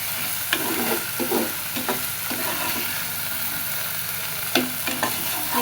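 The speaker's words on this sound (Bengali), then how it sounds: "খুব সুন্দরভাবে মশলা কষানো হয়ে গেছে।" Spices being stirred and fried down in a pan in a home kitchen: a steady sizzle with repeated scraping strokes of a spoon against the pan, close and alone without talking.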